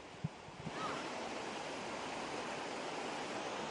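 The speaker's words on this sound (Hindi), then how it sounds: "एक तरफ से दूसरी तरफ किस रफ्तार से पानी आ रहा है" Floodwater rushing along a street in Delhi during record flooding, a loud, steady broadband roar of moving water that holds constant throughout, with a couple of faint knocks near the start.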